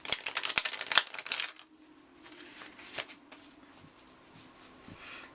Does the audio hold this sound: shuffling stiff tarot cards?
yes